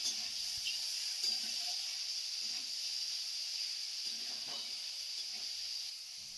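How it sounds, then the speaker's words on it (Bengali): Mushrooms are stirred in hot oil in a pan for a curry, a steady soft sizzle running throughout with faint scraping of the spoon now and then, heard alone at low level. "এক মিনিট মতন তেলের মধ্যে নাড়াচাড়া করে নিলেই হবে"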